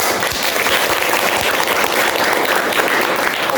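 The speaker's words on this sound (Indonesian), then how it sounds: "Selanjutnya Kak Mbak Ia beri tepuk tangan yang meriah." Audience at a youth event in Indonesia applauds after a poem reading, dense and loud steady clapping that fills the space without talk.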